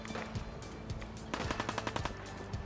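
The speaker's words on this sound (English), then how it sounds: "Yeah, I hear gunfire down here." Gunfire in the video game Fallout 4, rapid automatic bursts of shots crackling at a moderate distance, sustained and fairly even in rhythm with no talking.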